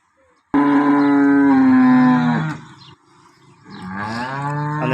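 A desi milk cow on a farm gives a loud, close, drawn-out moo lasting about two seconds, followed by a shorter, lower second call after a brief pause.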